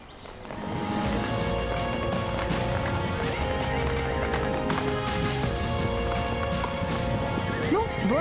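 Horses at a Cossack trick riding show thunder past with dense galloping hoofbeats amid a loud, continuous crowd and outdoor wash, with occasional snorts or whinnies.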